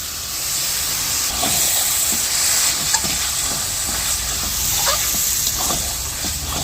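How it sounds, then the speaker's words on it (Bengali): Spice paste of Kashmiri chili powder, turmeric and dry chili powder with a splash of water frying in oil in a home kitchen, giving a steady close hiss and sizzle with faint stirring scrapes throughout. "মশলাটা দেখুন আমি ভালো করে কষিয়ে নিয়েছি এবং কি তেলও ছেড়ে গেছে"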